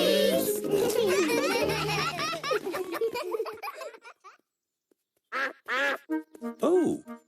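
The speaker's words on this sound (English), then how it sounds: "Cheeky Mrs. Duck is walking off with Peppa's boots" A cartoon duck quacks, with a few short nasal quacks in separate bursts after a stretch of lively cartoon voices and giggling, then quiet.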